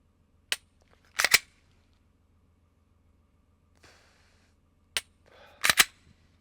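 Glock 20 SF Gen 3 10mm Auto pistol fired at a range: sharp, loud single shots, one alone then a close pair, another alone and a final pair, with quiet gaps between.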